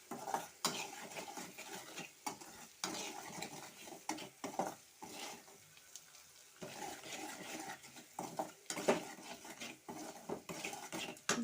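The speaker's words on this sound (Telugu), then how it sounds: "ఉప్పు వేసి అయితే కలుపుకుంటున్నా" A spoon scrapes and clinks against a pan while onion, green chilli, ginger-garlic paste, turmeric and salt are stirred together, making irregular close-up metallic scrapes and taps with brief pauses and no talking.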